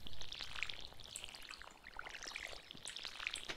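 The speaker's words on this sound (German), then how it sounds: "Dann fleißig gießen." Watering crops with a watering can in the Stardew Valley video game, a soft, faint splashing, trickling pour with light sparkly droplet patter, continuous and quiet.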